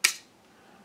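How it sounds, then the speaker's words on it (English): A single sharp click from the shutter of an Ansco Speedex f4.5 folding camera set to T, close and bright, decaying quickly into quiet. "so I push it up to T, and then I click the shutter,"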